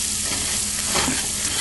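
Seasoned food, with onions among it, frying and sizzling in a pan for a breakfast bird's nest, a constant dense crackle with some stirring and no voices.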